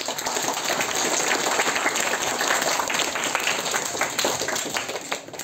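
Sustained audience applause fills a Nowruz celebration at a school, a dense wash of many hands clapping steadily and loudly throughout, with no talk over it.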